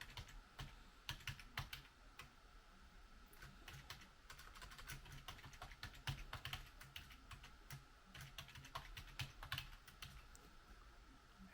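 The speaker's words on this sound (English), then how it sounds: "Password, I'm going to type this in." Rapid, uneven typing of a password on a US English computer keyboard during a mini PC setup, a steady stream of close, crisp key clicks with no talking.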